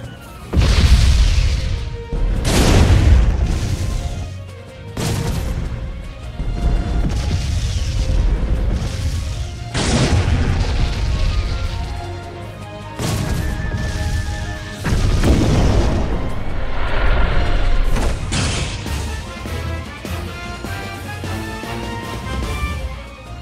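Repeated heavy artillery shell impacts in the naval game Abyss Horizon, a string of loud booming blasts at uneven intervals with crashing debris and steady battle noise between them.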